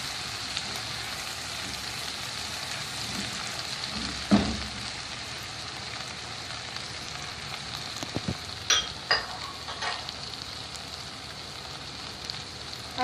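Chana dal sizzles and fries steadily in a hot pan, a soft continuous crackle punctuated by a few sharp clanks and scrapes of a spoon stirring, with no talking.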